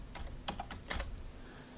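A zip code is tapped out on a computer keyboard as a short burst of fairly quiet, separate keystrokes with uneven rhythm and no one speaking over them.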